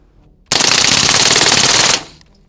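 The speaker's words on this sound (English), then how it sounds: "Another round with the SMG." An SMG fires one rapid sustained burst at an armored bank truck, loud and close, about a second and a half of continuous gunfire that ends sharply and leaves a short echo.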